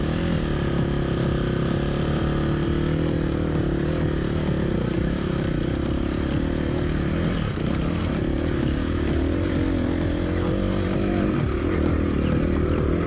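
A KTM 350 dirt bike ridden on forest trails, its engine droning loud and close with a buzzy, throbbing note that shifts slightly in pitch as the rider works the throttle, continuous throughout.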